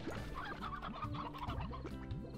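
A chicken in the video game Slime Rancher clucks in quick, repeated rising calls, close and clear against a quiet game background.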